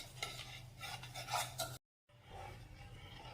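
Paneer being tossed with salt and seasoning in a bowl, soft close rubbing and scraping from the mixing in irregular strokes, broken by a short silent gap before the stirring resumes more quietly.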